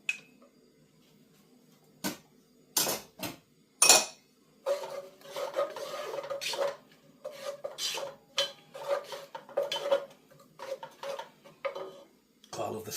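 Clinks, scrapes and stirring against a pan sound in a home kitchen as garlic goes in for leek and potato soup, with sharp metallic knocks early on and then a busy run of scraping, mostly without talk.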